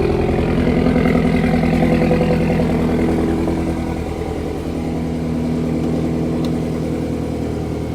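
A 2008 Subaru STI's turbocharged engine runs steadily at close range, a loud, throaty idle with a constant low rumble that eases slightly partway through and then holds.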